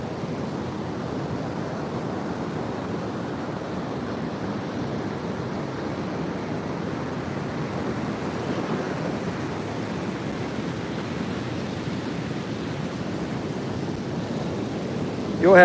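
Steady ocean surf rolls onto a beach near a jetty at a river mouth, a continuous broad wash of waves mixed with wind noise buffeting the microphone throughout.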